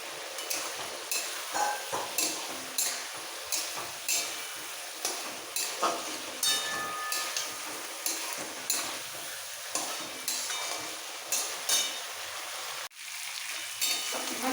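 Fried rohu fish heads being sautéed with green chili paste and spices in a hot pan, a steady sizzle broken by regular rhythmic scrapes and knocks of a spatula stirring, close and fairly loud, with no talking.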